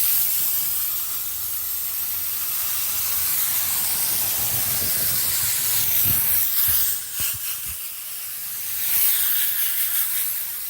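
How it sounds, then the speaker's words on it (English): Contact adhesive hisses steadily from an aerosol can for several seconds during headliner replacement on a 2008 Honda Ridgeline, loud and close, with a short pause and a couple of brief bursts toward the end. "I'm gonna spray it one more time."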